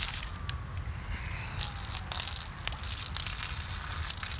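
Drink poured out onto the ground outdoors, a steady splashing gush under faint street ambience, moderately loud and continuous.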